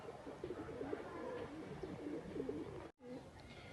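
Several pet pigeons coo in low, repeated rounded phrases, fairly close and steady, with a brief dropout near the end.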